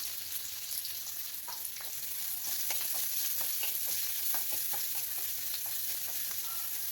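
Garlic, green chili and onion fry in a pan with a soft, steady sizzle, dotted with light crackles and quick spatula scrapes that grow a little busier toward the end.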